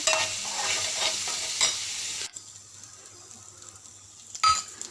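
Ginger garlic paste fries in a pan, loud sizzling and stirring for about two seconds, then a quieter hiss, with a short clatter of the utensil near the end.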